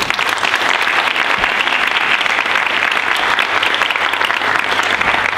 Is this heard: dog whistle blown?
no